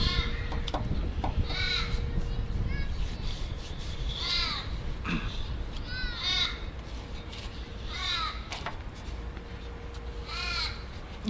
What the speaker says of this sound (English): Crows are here again.